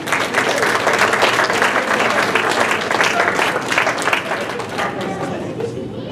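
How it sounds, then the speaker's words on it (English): A crowd applauds a team at a gala celebration. Dense, loud clapping mixes with chatter and cheering voices, then eases off slightly toward the end. "A round of applause."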